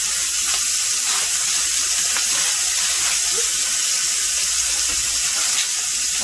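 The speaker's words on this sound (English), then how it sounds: "you're going to put that in there, and you should start to hear it sizzle" Thick ribeye steaks sizzling on a hot grill at a glamping cookout, a loud continuous hiss and crackle with occasional soft clicks and taps, no voices.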